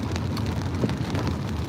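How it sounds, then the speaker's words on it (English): Heavy rain pelts a car while it drives, a dense, continuous hiss and patter over low road rumble, steady and close with no talking. "it is pelting it down a fair bit"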